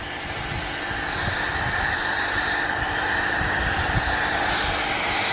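An AstroAI foam cannon sprays car wash foam, producing a steady, loud airy hiss that holds evenly throughout with no speech.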